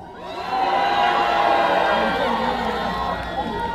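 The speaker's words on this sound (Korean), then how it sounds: "이천에 살고 계신 분들 함성!" A concert crowd at a Seolbongsan starlight festival in Icheon cheers and shouts, a loud sustained roar of many voices that swells early and slowly fades.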